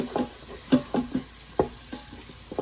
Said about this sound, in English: I'm just going to add them all into the Instant Pot.